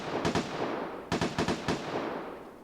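Rapid bursts of gunfire in the video game Vigor, a player shooting at the airdrop carrier, come as two short clusters of sharp, fairly distant cracks separated by a pause, over a steady ambient background.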